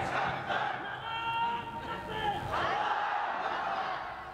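A crowd at an Islamic waz gathering in Rajibpur shouts takbir together in loud, sustained chanted calls that rise and swell, with a preacher's voice mixed in among them.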